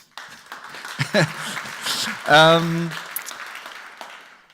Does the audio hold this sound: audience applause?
yes